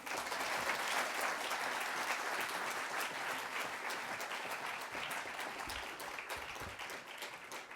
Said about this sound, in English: One more big round of applause for Santa Barbara City College